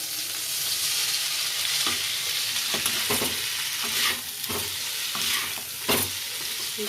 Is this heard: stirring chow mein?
yes